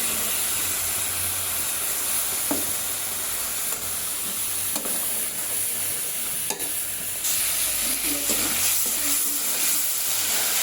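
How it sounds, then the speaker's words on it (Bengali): Spice masala fries in a pan with a constant close hiss and sizzle, broken by occasional scrapes and knocks of a spoon being stirred, the sizzle brightening toward the end. "আর একটু ভালো করে ভেজে নেব।"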